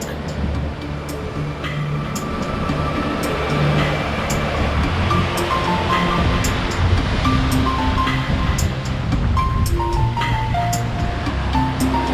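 Ocean waves wash against the rocky coastline at Otter Cliff in Acadia, a continuous loud rushing surf with steady churning and no clear pauses.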